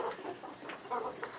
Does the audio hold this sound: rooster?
yes